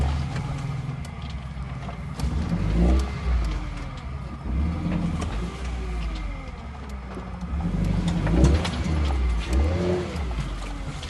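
A vehicle engine drives along a mild off-road track near riverside land, a low steady rumble that swells and eases over the bumpy ground, close to the microphone with no talking.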